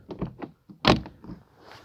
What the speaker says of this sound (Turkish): Hiç zorlanmadan kapanıyor şöyle.